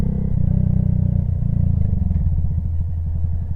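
A motorcycle engine revs up, then drops away as the clutch is pulled and the gear is clicked up, with a lumpy rhythmic putter settling back under load; close and fairly loud, no voices.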